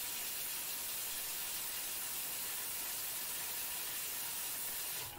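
A Thermomix runs at speed 5 chopping muesli ingredients, giving a steady loud whirring hiss for about five seconds that cuts off abruptly at the end.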